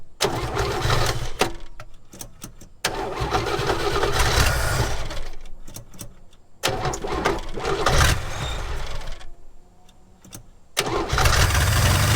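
A 1969 Chevy Bel Air, a barn find left sitting for ten years, cranks and fires repeatedly, catching in loud close bursts broken by short pauses before settling into longer stretches of rough idling.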